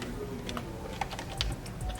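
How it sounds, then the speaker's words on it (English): Domestic sewing machine stitching a seam with a zipper foot to install an invisible zipper, heard up close as a quick, uneven run of light mechanical clicks and taps with a few louder knocks, without voices. "put our zipper foot down, and we're going to sew"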